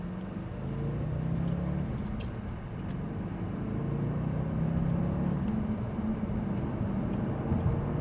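A black Audi RS4 convertible accelerates through a couple of gears, its engine a steady, rising drone with gear-change dips, heard from inside the car with no talk over it.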